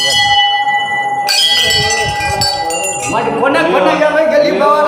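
A temple bell rings loudly and close, its bright metallic tone sustained and ringing out repeatedly, with voices murmuring beneath it.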